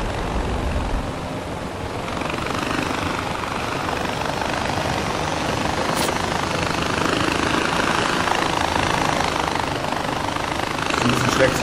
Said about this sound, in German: So ein Ultraleicht-Heli hier.